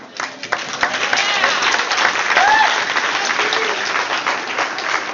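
Audience applause fills a large crowd at a Broward County school advisory council meeting, steady dense clapping throughout with a few cheers and whistles rising over it.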